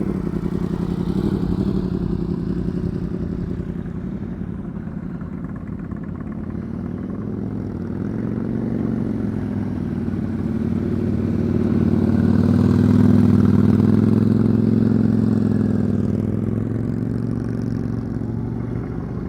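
A motorcycle engine idles steadily nearby, its low rumble swelling gently as the revs rise a little midway, then settling back down.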